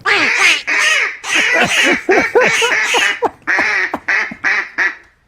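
A soundboard duck effect plays a run of loud, nasal quacks in quick uneven bursts, close and clear, with no talk over it.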